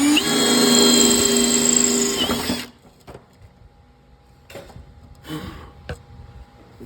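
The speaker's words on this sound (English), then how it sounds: "So again, get my drill." A power drill whines loudly at high pitch for about two and a half seconds while drilling metal, then stops, leaving quiet clicks and faint handling noises.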